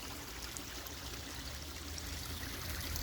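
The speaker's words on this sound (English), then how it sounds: "waterfall slash filter box" Water from a backyard pond waterfall trickles and flows over a filter box, a faint, steady streaming sound with no talk.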